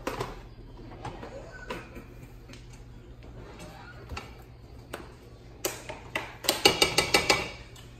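Pasta is stirred in a pan: faint, sparse scrapes and clinks of a utensil, then a quick cluster of sharp clattering taps close by near the end.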